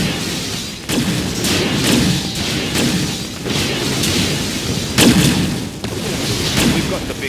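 Heavy artillery guns firing in the real-time strategy game Mental Omega, a series of deep booming thumps spaced a second or two apart, with game voice lines spoken over the blasts.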